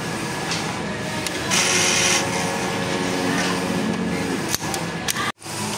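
An inkjet printer hums and whirs steadily as its head runs a nozzle check, with a brief louder mechanical burst midway and a couple of clicks near the end.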